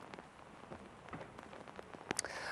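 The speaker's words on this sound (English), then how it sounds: "The rain has started up again" Heavy rain from Storm Chandra falls beside the flooded River Otter in Devon, a close, crackling patter of drops on hard surfaces with a few sharper splashes and no talking.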